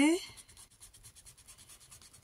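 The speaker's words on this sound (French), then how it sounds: "Maintenant, je vais jouer avec ma gomme." A rubber eraser rubs back and forth on paper during card scrapbooking, a close, steady run of soft scratchy strokes in quick, even rhythm after a brief opening sound.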